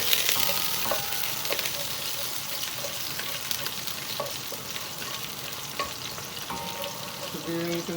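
Mussels (tahong) fry in a pan for breakfast, giving a dense, continuous sizzle and crackle, punctuated by light clinks of stirring, close up with no talking.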